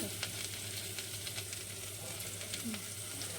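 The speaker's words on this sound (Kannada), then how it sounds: "ಸ್ವಲ್ಪ ಚೆಂದಾಗಿ ತಿರುಗಾಡಿ ಬೇಯಿಸ್ಬೇಕು ಒಂದಿಟ್ಟು." Green chillies sizzling in hot oil for a vegetable pulao tempering, a steady close frying hiss with soft scraping stirs throughout.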